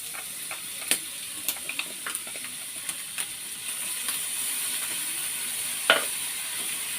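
Garlic, onion and a little ginger sauté in a pan with a soft, steady sizzle, punctuated by scattered clicks and taps of a utensil against the pan, with no talking.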